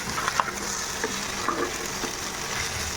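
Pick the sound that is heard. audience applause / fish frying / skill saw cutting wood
fish frying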